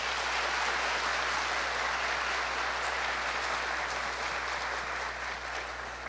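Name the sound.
audience applause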